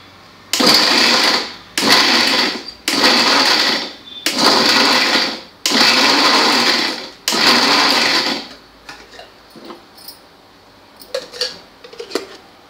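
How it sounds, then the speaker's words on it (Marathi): A mixer grinder chops lemons for pickle in six loud, close bursts of whirring, each cut off by a short pause, then a few faint clinks and scrapes. "आता हे मी मिक्सरला बंद चालू असे फिरवून घेते।"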